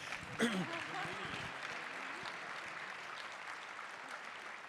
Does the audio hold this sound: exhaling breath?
no